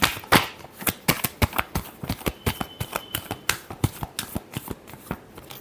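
A deck of tarot cards is shuffled by hand in a quick run of crisp riffling snaps, each burst sharp and close, repeating steadily with no talking.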